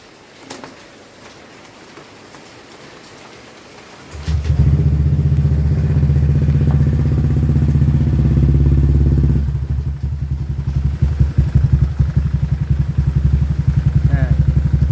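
Honda Vario 150 scooter engine with an altered exhaust, starting up after a quiet stretch and settling into a loud, close, steady idle with a rattling, uneven knock running through it.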